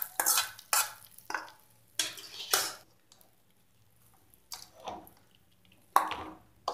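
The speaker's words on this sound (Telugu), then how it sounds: "వేసేసుకొని బాగా కలుపుకుందాం" A spoon turns the hot tempering into a pan of pulihora, tamarind rice, with wet, sticky scrapes and squelches. These come in bursts with short quiet gaps between them, and no voices are present.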